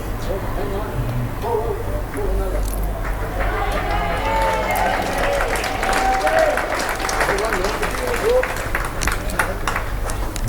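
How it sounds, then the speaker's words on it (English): Crowd applause at an outdoor lawn bowls championship green in Paphos, Cyprus, a steady dense clapping spread over the full stretch, with a commentator's voice talking over it. "Applause for Jamie Walker"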